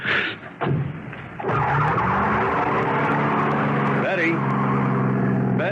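A car pulls away in a cloud of dust in a 1979 radio drama, its engine roaring loudly and tires skidding and squealing in one continuous close burst.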